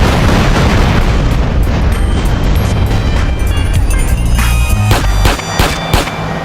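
An RPG rocket explosion in GTA San Andreas Definitive Edition roars as a loud, sustained rumbling blast, with a few sharper bursts and crackles toward the end.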